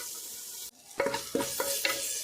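Mangalore-style chicken sukka with tomato is stirred in a hot pan, four distinct scraping strokes of the spoon ringing out over a low, steady frying sizzle, close and fairly quiet.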